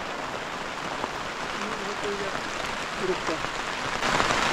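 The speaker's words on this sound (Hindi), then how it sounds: "बारिश शुरू हो गई है और वो ग्लेशियर पार करना था हमें अभी।" Rain falls in the mountains along a glacier pilgrimage trek to Shrikhand Mahadev, a soft, steady patter of drops spread evenly throughout. Quiet voices murmur under it, and the sound swells slightly near the end.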